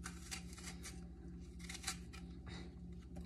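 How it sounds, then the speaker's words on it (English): An apple is peeled by hand, giving faint, irregular scraping and rasping strokes over a low steady hum, quiet and close. "basically what I'm doing right now is I'm peeling the apple"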